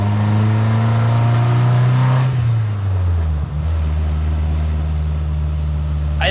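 A 1979 Toyota Corolla with a built 500HP engine accelerates hard, its loud droning engine note climbing steadily, then dropping sharply at a shift before pulling again, close and continuous with no talk.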